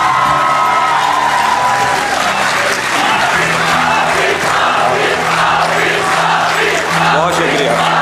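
At an Urdu poetry recital, the audience breaks into loud, continuous applause for the poet Tahzeeb Hafi, mixed with whoops and cheers from the crowd.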